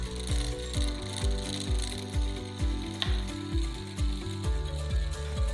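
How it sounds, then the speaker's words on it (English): A homemade electric coil motor spins beside a magnet, giving a rapid, regular clicking-ratchet rattle with a pulsing rhythm, close and alone throughout. "When you bring a magnet close to the coil, it starts spinning rapidly, demonstrating the principles of an electric motor."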